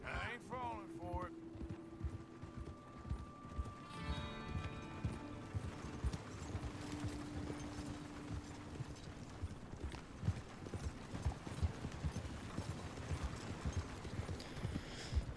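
Horse hooves clip-clop in a steady rhythmic gait in Red Dead Redemption 2, near and continuous, with a brief whinny and some tonal game sounds early on beneath the hoofbeats.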